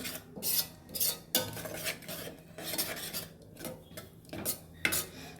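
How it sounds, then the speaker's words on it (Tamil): Masala for bone soup frying in a pan while a spoon scrapes and stirs it, with rhythmic metallic rasps and clinks recurring every second or so under a faint sizzle, close and fairly quiet. "இப்போ மசாலாவை நல்லா பச்சை வாடை போகிற அளவுக்கு வதக்கிக்கலாம்."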